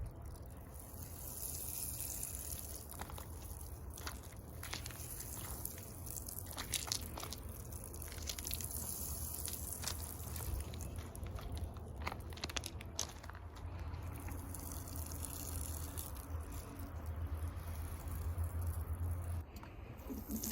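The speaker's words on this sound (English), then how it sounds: "I'm gonna go around and sprinkle the mixture on the areas that have weeds" Hot homemade weed-killer mixture sprinkled from a container onto garden weeds, a faint, ongoing splashing and trickling of liquid with soft crackles, heard without talk.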